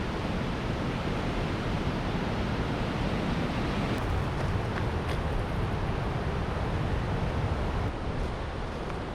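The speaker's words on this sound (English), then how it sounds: "I think even Tasmania would be impressed with this wind. It's next level at the moment." Strong wind roars across Careys Peak in Barrington Tops, a constant broadband rush and buffeting against the microphone, loud and unbroken throughout with no talking.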